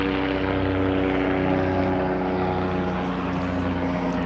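A helicopter passes low near a small municipal airport, a steady loud rotor drone with strong low hum that holds evenly throughout, with no voices.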